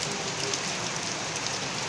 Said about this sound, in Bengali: দেখতেছেন প্রচণ্ড পরিমাণ বৃষ্টি নামতেছে